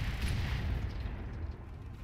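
A mech's weapon fires in the BattleTech video game, a low, rumbling boom that rolls out and decays over about two seconds, loud and heavy in the bass with no voices.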